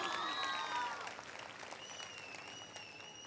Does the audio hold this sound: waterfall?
no